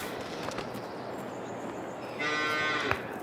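A cow in Farming Simulator 22 gives one drawn-out moo in the last second, close and clear, after a quiet stretch of steady barn ambience on a freezing morning.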